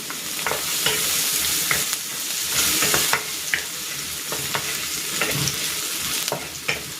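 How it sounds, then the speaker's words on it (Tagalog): Garlic and ginger sauté in oil in a pan for native chicken tinola: a continuous close sizzle broken by repeated sharp scrapes and clicks of a stirring utensil, with no talking. "Igisa ko na rin dito itong bawang"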